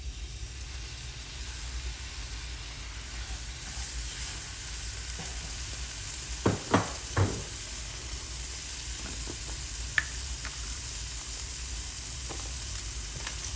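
Onions and peppers sizzle in a pan for garlic herb rice, a soft, steady frying hiss broken by a few brief utensil clatters from stirring near the middle.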